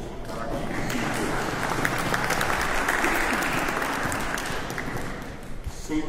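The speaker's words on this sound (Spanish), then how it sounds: "les pido un aplauso para ustedes por su participación" An audience at a public hearing on health reform applauds the participants with dense, steady clapping that holds for several seconds and thins slightly toward the end.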